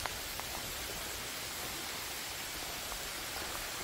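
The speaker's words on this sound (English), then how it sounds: "Summer rain." Summer rain falls steadily on an estate garden, a soft even hiss of fine drops that holds without change and stays faint and distant.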